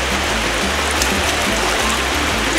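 A river in Nigeria rushes and gurgles continuously nearby, a dense, loud wash of flowing water with no voices.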